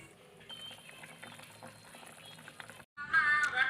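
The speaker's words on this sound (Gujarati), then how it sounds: "પાકે છે આપણે અડદની દાળ." A pot of urad dal bubbles and simmers on the stove, giving a low, uneven burble that grows louder toward the end. Faint household sounds run underneath.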